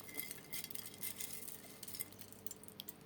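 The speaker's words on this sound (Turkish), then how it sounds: "Tenceremin içine koyuyorum yıkamış olduğum yeşil mercimekleri." Washed green lentils patter and clink faintly into a metal pot, a quiet scattered rattling of small hard grains in short bursts with no talking.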